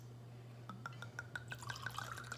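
Bacardi rum trickles into a shot glass in a kitchen while a Puerto Rican–style pumpkin pie is being made, a run of close, quiet drips and splashes that speed up into a steady pour.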